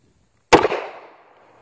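A single sharp report from a Smith & Wesson Model 39 pistol fired at a target 35 feet away, loud and close, with a brief ringing decay trailing off into quiet.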